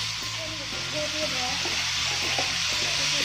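Shallots and onion stir-fry for a pork curry-powder dish, a continuous bright sizzle with soft scraping stirs running through it and a faint murmur underneath.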